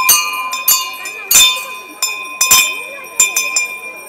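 Bright metallic bell strikes ring out repeatedly at an uneven pace, each one sharp and close, leaving a sustained ringing tone between hits.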